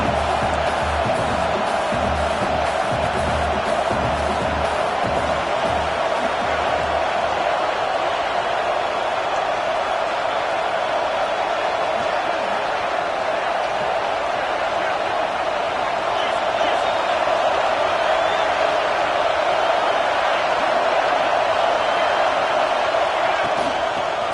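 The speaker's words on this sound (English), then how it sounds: "the crowd coming to life here, trying to help this defense down in the red zone" A stadium crowd at an LSU vs Alabama college football game roars in a steady, dense wash of cheering as the home defense works in the red zone, with a commentator's voice running over it.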